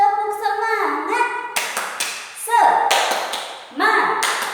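A class of children claps out the rhythmic 'tepuk semangat' spirit clap, sharp bursts of hands struck in patterned groups, mixed with sung chanting voices.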